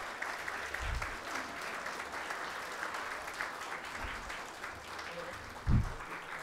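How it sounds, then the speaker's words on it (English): A convocation audience gives a round of applause for PG Diploma graduates. The clapping is fairly faint and spread out, with a few louder bumps and some low background voices. "A big round of applause for all our PG Diploma students"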